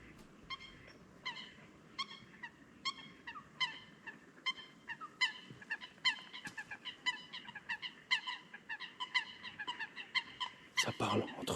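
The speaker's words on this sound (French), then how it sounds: "bagarre de canard." Ducks squabbling beside a lake in Ariège, a rapid series of loud harsh honks and quacks trading back and forth, growing busier and louder toward the end, heard at moderate distance outdoors.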